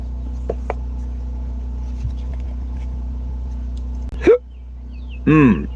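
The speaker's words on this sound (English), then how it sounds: "Hiccup." Two sudden human hiccups, the first sharp and voiced, the second a bit later and slightly longer, heard over a steady low engine hum inside a moving vehicle.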